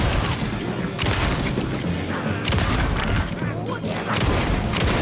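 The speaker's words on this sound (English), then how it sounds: "fully automated shotgun" A fully automatic shotgun fires in the Night Springs video game, sending out loud booming blasts in rapid repeated bursts with short gaps between them. The shots are close and dominant, and a voice talks at times.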